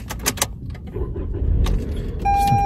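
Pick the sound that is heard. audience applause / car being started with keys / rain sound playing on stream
car being started with keys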